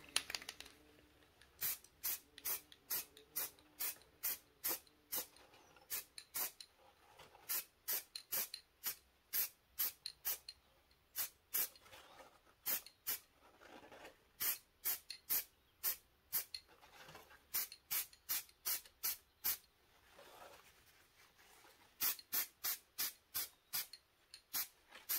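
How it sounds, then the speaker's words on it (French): Aerosol can of sealant sprayed onto wood: repeated short hissing bursts in quick rhythmic runs with brief pauses between groups, close and fairly faint, no voices. "c'est du scellant que je vais passer à la bombe"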